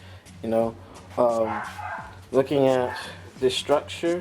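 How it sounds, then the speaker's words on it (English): A pet dog barks in the background in short intermittent bursts while someone talks steadily nearby, the barks partly buried under his voice. "pardon the dog barking"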